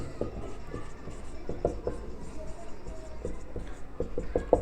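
Pen or marker strokes writing trigonometry formulas during a class 10 maths lesson, a steady run of short scratchy taps and scrapes, close and fairly quiet, with a faint background hum and no talk.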